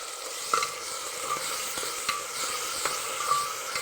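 A finely chopped large onion and potato stirred in a hot pan for masala khichdi, with intermittent spoon scrapes and clicks over a low, steady frying sizzle and no talking.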